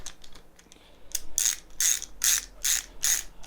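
Socket wrench ratcheting on Kranzle pressure washer valve hardware, a quick series of sharp metallic clicks, starting faint and then louder in even repeated bursts, close and alone.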